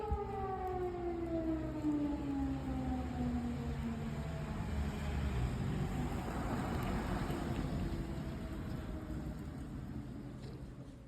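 A distant Ukrainian air raid siren wails with a long, slowly falling pitch, sustained over outdoor background noise before fading out.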